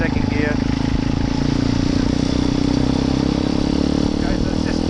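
A motorcycle engine runs steadily up close while the rider slows into busy traffic and drops to second gear; a voice talks over the continuous mid-pitched drone and road noise.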